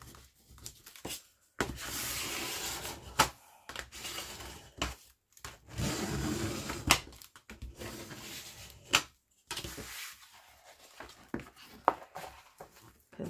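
Paper file folder being folded and creased by hand for a folio, a series of dry rubbing and crinkling bursts separated by short pauses, close and moderately quiet.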